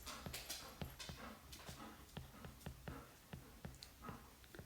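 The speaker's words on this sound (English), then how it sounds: "Sorry if you can hear my dog panting over here." A nearby dog pants in fast, rhythmic breaths with soft intermittent clicks, fairly faint but steady throughout, with no voices.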